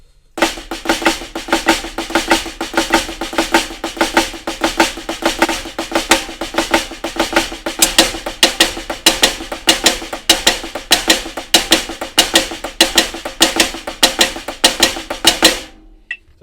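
Snare drum strokes in a steady, fast sticking pattern built on flat flams, played to a click with rhythmic accents and repeated without a break, loud and close, then stopping abruptly.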